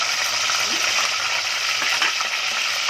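Curry leaves and green chilies frying in hot oil in a home kitchen, a steady close crackling sizzle that stays even throughout.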